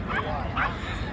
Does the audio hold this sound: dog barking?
yes